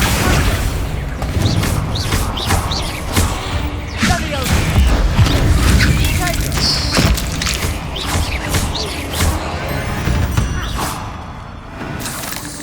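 Spell blasts and explosions in the Hogwarts Legacy video game, a dense run of booms and crashing impacts layered with game sounds and a character's voice.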